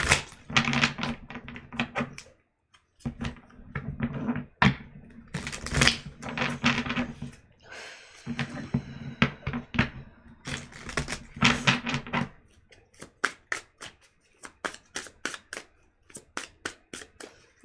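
A deck of tarot cards is shuffled by hand in repeated crisp riffling bursts with short pauses, ending in a run of quick, sharp taps; no talking.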